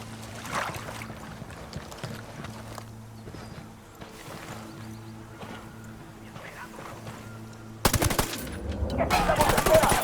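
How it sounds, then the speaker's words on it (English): Gunfire in the video game Ghost Recon Wildlands: game sound with steady low tones, then a burst of loud, dense automatic shots near the end. "I'm shooting these fuckers."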